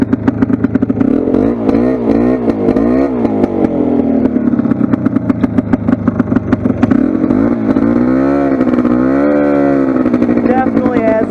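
A loud Polaris 400 ATV engine runs with a raspy, rattling exhaust, rising and falling as it revs, close and dominating throughout.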